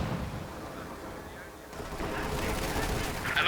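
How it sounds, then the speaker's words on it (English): An artillery barrage from British forces in Company of Heroes 2 rumbles as dull, heavy booms and rolling explosions, rising in intensity partway through, with a voice talking over it. "An artillery barrage has been laid on."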